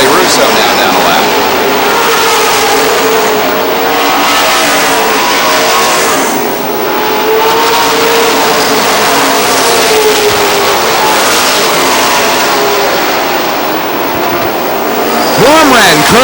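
Race cars roar around Lee Speedway in New Hampshire, engines droning loudly and continuously with a car sweeping past near the end, under steady commentary from an announcer.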